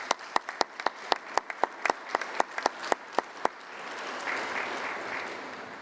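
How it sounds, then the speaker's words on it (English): Scattered clapping at a school district convocation, starting as a run of distinct, evenly spaced single claps, then blending into a softer, diffuse wash of crowd applause. "So please give yourselves a round of applause"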